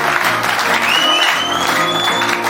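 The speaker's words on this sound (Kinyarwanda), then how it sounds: "Dukomere Yesu amashyi cyane" A church congregation applauds loudly in one continuous burst of clapping, with a thin whistle-like tone rising through the middle.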